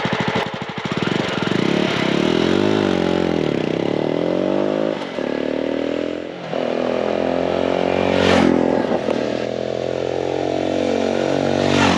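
A 2024 Jawa 350 motorcycle revs steadily, its engine and exhaust note rising and falling through several throttle blips, loud and close with no talk over it.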